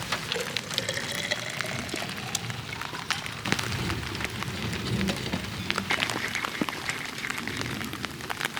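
Steady rain pattering on a Jeep at a snowy campsite in West Virginia, a dense, even patter of close drops with no talk.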